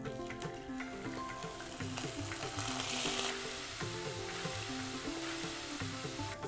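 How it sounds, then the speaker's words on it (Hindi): Onions sizzle and fry steadily in hot oil with toasted cumin seeds and a little salt for a jackfruit curry, a continuous crackling hiss with occasional stirring clatter, no talk. "प्याज हमारा भुन रहा है"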